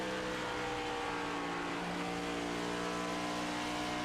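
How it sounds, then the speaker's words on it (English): A NextGen Cup Series stock car engine in a racing game holds a loud, steady high-pitched drone with rich harmonics, running continuously and close without any talking. "Pick up the throttle as he's chasing down the 53."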